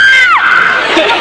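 A game-show contestant lets out a short, sharp scream in a quick burst, loud and piercing with a falling pitch, followed by brief crowd noise.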